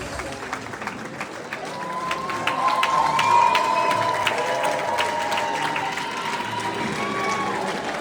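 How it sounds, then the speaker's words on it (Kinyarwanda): An audience at a Rwandan media awards ceremony applauds and cheers for winners, with sustained crowd clapping and shouts swelling and holding steady, and a thin whistle-like tone rising briefly above the noise. "Tubikomera amashyi cyane."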